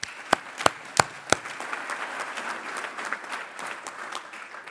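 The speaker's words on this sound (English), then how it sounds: "How about a round of applause?" Applause from a gala dinner audience: a few sharp, loud claps up front, then a soft, steady wash of clapping from a crowd filling the rest.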